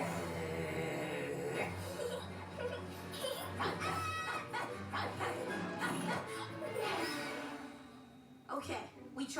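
A cartoon dog in Puppy Dog Pals barks and yips repeatedly amid whimpers and clucking, with animated characters talking over and between the barks.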